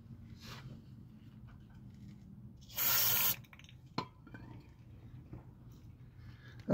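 Aerosol spray applied to engine parts during a rod bearing replacement, a single loud hissing burst of about half a second standing out over a quiet workshop background with a few faint clicks.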